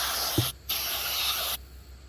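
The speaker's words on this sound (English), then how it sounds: "This has pressure and it blows it out with cleaner that takes away oil and grime and grit." Aerosol gun cleaner sprayed onto pistol parts in two bursts, each a close, loud hiss that cuts off abruptly, with a short pause between them.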